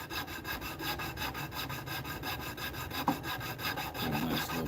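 A needle file tapers metal in quick, evenly spaced rasping strokes, a steady back-and-forth scraping close to the microphone with one sharper tap midway.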